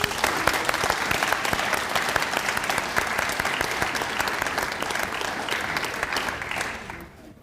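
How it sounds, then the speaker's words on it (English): Audience applause at an awards ceremony: a roomful of people clap continuously for about seven seconds at moderate distance, tapering off near the end. "a big round of applause for Lucretia"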